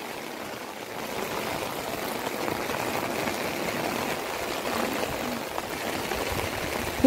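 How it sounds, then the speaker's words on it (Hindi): Rainwater pours and streams into a house during a heavy storm, a steady, close, rushing wash of flowing water that runs unbroken and fairly loud for several seconds, with no talking. "यहाँ घर से अंदर घर के अंदर से पानी आ रहा है।"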